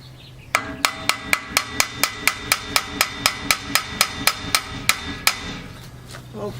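A hammer strikes a chain sprocket on a DR Field and Brush Mower about seventeen times in a steady, even rhythm, each blow a loud, ringing metallic clang, close and alone.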